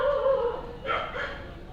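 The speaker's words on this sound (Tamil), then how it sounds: "நாய் வேறு ஊழ விழுது." A dog in the horror game The Baby in Yellow lets out a short whimpering howl and a yip, then trails off. It is close and fairly loud and lasts under two seconds.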